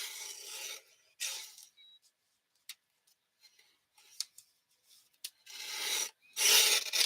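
Paper being cut and trimmed with scissors for a handmade card: scattered short snips and rubbing scrapes in separate bursts, with quiet gaps between them and a few small ticks and taps, close by and without speech.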